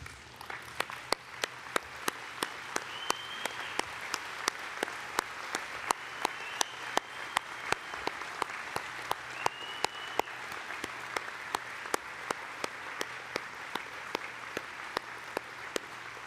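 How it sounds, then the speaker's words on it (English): A graduation ceremony audience for the Faculty of Engineering and Information Sciences stands and applauds at length, a steady wash of clapping with sharp individual claps standing out regularly, moderately distant in a large hall. "So let's stand and give them a big round of applause."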